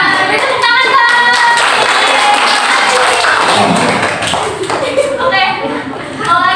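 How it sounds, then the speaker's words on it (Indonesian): Children in an elementary classroom clap their hands together, a busy mix of claps and taps under lively chatter and voices from the room, continuing for several seconds. "Beri tepuk tangan dong."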